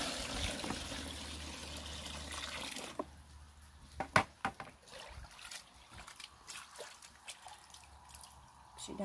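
Rainwater splashes and trickles into a tub holding raw llama wool out in a garden, a steady pour that gives way to scattered drips and sloshes close by, with no talk.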